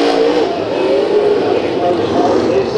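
Late model race cars warming up at Bakersfield Speedway before a heat race, a loud, dense, continuous engine drone with several cars revving together and a commentator talking over it.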